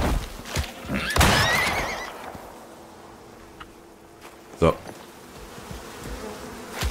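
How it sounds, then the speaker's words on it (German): Bees buzzing in the survival video game Icarus, a dense, loud insect drone that swells at the start and fades, with a horse whinny and hoof clops mixed in and a few sharp knocks later. "Na klar, jetzt sind hier die Bienen da."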